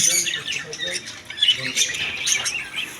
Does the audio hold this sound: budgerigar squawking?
yes